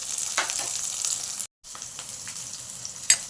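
Onions and green chilies frying in oil for sambar, a close, crackling sizzle with scattered pops and light stirring, briefly cut out midway.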